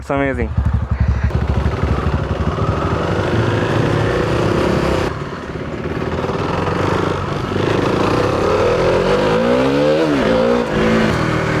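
Old BS3-version KTM Duke 390 motorcycle engine revving hard, a loud, close, continuous roar that climbs and falls in pitch through repeated throttle blips, with excited voices mixed in.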